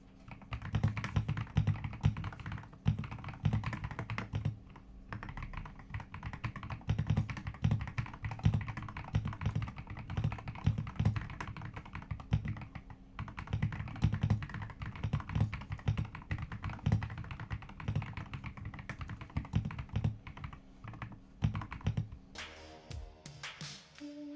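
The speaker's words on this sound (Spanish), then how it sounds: "A continuación les dejo una prueba de escritura para que puedan apreciar el sonido que ofrecen." Steady typing on a Royal Kludge RK R99 mechanical keyboard, with a fast, continuous patter of close keystrokes, brief pauses and a few heavier key thocks, and no voices.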